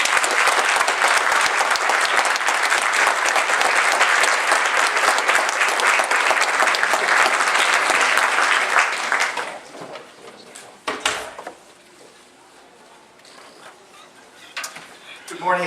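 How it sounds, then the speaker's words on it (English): Sustained loud audience applause at a school Wall of Fame ceremony, steady dense clapping for about nine seconds before fading into scattered claps and room noise with a few thumps. "a great big round of applause"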